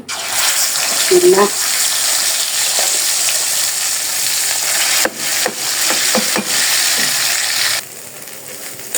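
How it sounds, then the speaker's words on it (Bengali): Mixed greens with garlic and onion tempered in hot oil, a loud continuous sizzle with a few utensil knocks and clatters partway through. "এখন হচ্ছে বাগার দিব তেলে"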